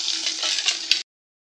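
Boiled eggs fry in hot oil seasoned with turmeric, salt and chili powder. A close, even sizzle holds for about a second with one small pop, then cuts to silence.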